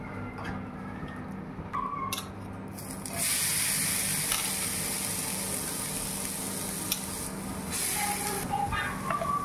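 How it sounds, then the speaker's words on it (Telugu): A blended coconut mixture fries in ghee in a pan, giving a soft, steady sizzle and hiss that grows a little louder partway through, with occasional light clicks of stirring. "దీన్ని ఇప్పుడు నెయ్యిలో ఫ్రై చేసుకుందాము."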